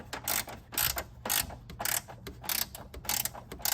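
A 12 mm socket wrench ratchets on a bolt while a light bar bracket is fitted to a vehicle, giving quick close clicking bursts in an uneven rhythm of short strokes.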